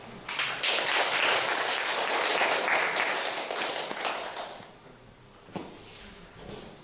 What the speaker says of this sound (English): Let's please welcome him with a big round of applause.